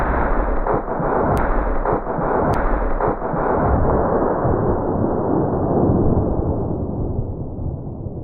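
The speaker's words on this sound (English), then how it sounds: "I've hit him front on with 30-06 with a 178 grain ELDX, and it's just absolutely poleaxed him" A .30-06 rifle loaded with a 178 grain ELD-X bullet fires once at the outset, a loud, sharp crack followed by a long, rolling boom that slowly fades across several seconds. No voices.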